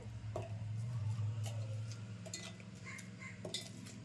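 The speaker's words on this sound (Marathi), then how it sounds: "तर आता मी हे तोडून तोडून ना मिक्सरच्या भांड्यामध्ये टाकणार आहे" Roasted finger-millet pieces for ghee laddoos are broken by hand and dropped into a mixer jar, giving light ticking clicks and small clinks over a steady low kitchen hum, with no talk.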